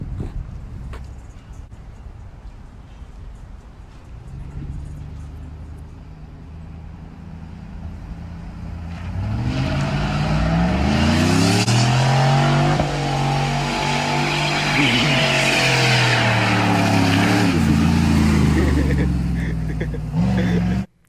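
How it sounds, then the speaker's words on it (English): A car doing donuts at a subscriber burnouts and donuts competition, its engine idling and rumbling at first, then revving hard and loud with rising and falling pitch as it spins, with a voice talking over it. "That had to be one of the most underwhelming donuts I have ever seen."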